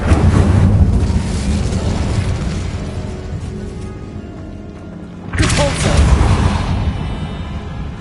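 In Hogwarts Legacy, an Incendio fire spell is cast with a loud booming burst that decays into a long rushing roar, followed by a second heavy whoosh and flare several seconds later.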